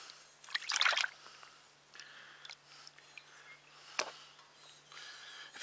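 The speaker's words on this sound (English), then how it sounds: "Rinse these dudes off real good." Cleaned sunfish are rinsed under water: close, faint trickling and splashing with a louder sloshing burst early on and scattered wet handling sounds, no talk.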